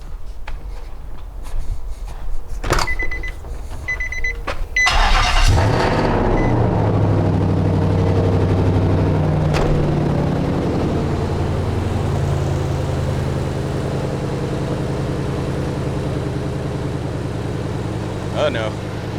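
A Titan truck engine starts with a short crank, then settles into a steady, loud, rumbling idle that continues on its own.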